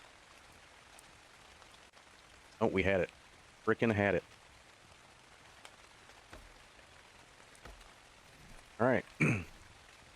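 Steady rain falls throughout in the video game Ark Survival Ascended, a constant hiss of drops on surfaces heard clearly while someone speaks a few short phrases over it.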